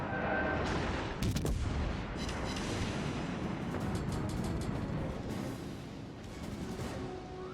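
Steady rumbling barrage of secondary guns firing from the cruiser USS Pensacola in a naval battle game, with dense overlapping shots and sharper cracks scattered through the continuous din.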